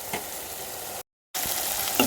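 Ground masala paste with tomato sizzles in a hot pan of oil for a kofta curry, a steady close-up crackle and hiss that cuts out briefly, then resumes.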